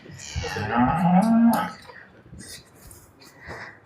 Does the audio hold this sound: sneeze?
no